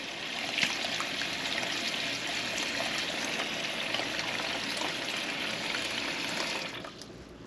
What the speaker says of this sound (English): draw some regular tap water in them